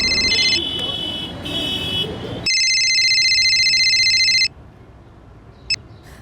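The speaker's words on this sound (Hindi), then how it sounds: "जरा फोन लगाओ सुनीता दीदी को।" An electronic telephone ring tone sounds while a call is placed in a Hindi crime drama scene, arriving in bright repeating bursts with one long steady tone in the middle, over a low background bed, then cutting off.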